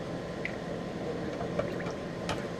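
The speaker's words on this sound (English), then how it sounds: "Now we're going to pour it off into this 1 quart can I got." Beeswax waterproofing solution thinned with turpentine is poured into a small 1-quart metal can, a soft, quiet trickle and fill with faint drips and splashes, close up and alone.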